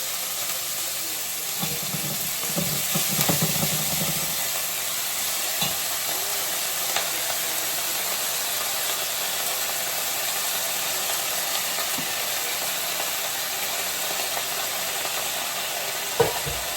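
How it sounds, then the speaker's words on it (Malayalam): Drumstick leaves wilting in a hot pan with asafoetida, giving a steady broadband sizzle with a few scraping stirs early on and a sharp clink near the end, alone without talk. "ഞാൻ ഈ ഇല നല്ലൊന്ന് വാട്ടിയെടുക്കുവാണ്"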